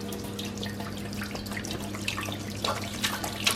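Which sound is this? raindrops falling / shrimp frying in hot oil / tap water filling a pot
tap water filling a pot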